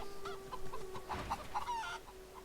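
A chicken in the video game Divinity: Original Sin II clucks in a quick run of short, close calls over a steady game tone and soft background music.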